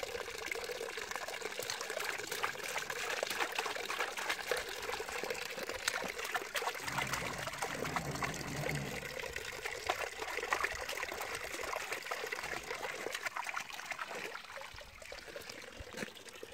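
Water runs steadily from a tap in a village home as a child washes, a continuous close trickle and splash that holds at an even level throughout.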